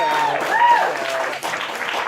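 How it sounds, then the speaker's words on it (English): Comedy club crowd applauding a comic coming to the stage, a dense spread of claps mixed with a voice and a sliding tonal whoop that stays fairly loud throughout. "Please give a round of applause, guys, for Becky Wyatt,"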